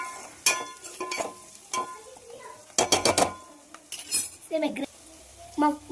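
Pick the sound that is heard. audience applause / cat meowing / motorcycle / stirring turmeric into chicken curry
stirring turmeric into chicken curry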